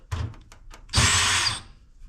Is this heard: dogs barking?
no